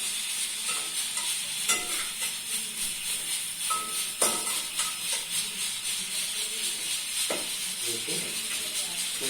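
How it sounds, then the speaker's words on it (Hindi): Vermicelli (sevaiyan) dry-roasting and stirring in a pan, a steady soft sizzle with scraping stir strokes, moderately close, with some faint talk in the background. "सवैयों को हम भूनते जा रहे हैं"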